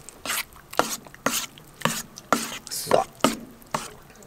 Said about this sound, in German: Jetzt werden wir das Ganze einfach mal so ein bisschen durchrühren. Und das zu einer Masse rühren.